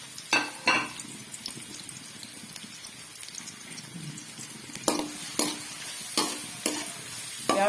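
Chopped onions and green chillies hit a pan of browned chicken for a desi masala pasta, sizzling quietly while a spoon stirs in a few distinct scraping bursts.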